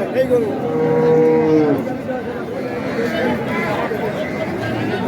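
Dairy cow mooing at a livestock market among Sahiwal, Sindhi and local breeds, a long drawn low call near the start over busy crowd chatter and people talking.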